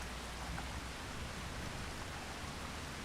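Rain falling in the farming video game Farming Simulator 25 makes a steady, dense hiss with no pauses, even and fairly faint, and no voices over it.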